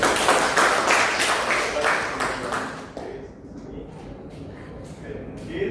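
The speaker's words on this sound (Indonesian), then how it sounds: "Kelompok terakhir boleh dikasih aplaus juga." A classroom of students claps for the last presenting group, a steady burst of applause lasting about three seconds before it thins into scattered claps and shuffling, with a teacher's voice speaking.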